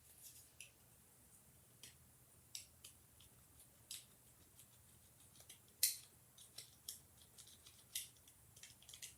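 Small snips as excess cured resin is trimmed away, a scattering of faint, sharp clicks spread irregularly across a quiet background, with one louder cut near the middle.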